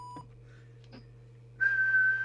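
A steady, sustained whistle tone into a World Sound PT40 mobile CB radio microphone, transmitting, starts partway through and holds to the end, loud and close, after a few faint clicks and rustles over a low hum.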